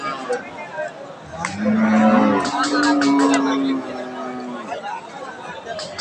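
A pregnant cow, six months along, lows on a farm in a long, loud mid-pitched moo, while people talk and chatter around it before and after.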